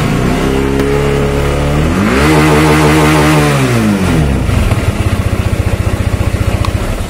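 Rusi ADV X 150i scooter engine revving up to its maximum RPM, holding a strained high whine, then dropping back to a pulsing idle, loud and close.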